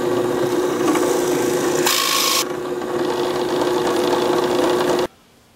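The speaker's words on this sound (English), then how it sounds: "I'll use a smaller hole saw and cut it" A hole saw cuts into a wooden wheel made from 2x4 lumber, a loud, close, continuous grinding rasp with a brief harsher burst midway, stopping abruptly near the end.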